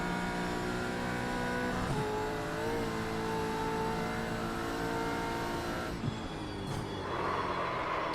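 Chevy V8 Supercar engine in the iRacing sim, a steady loud droning roar with harmonic revs that dip briefly around shifts and braking, continuous throughout at close range.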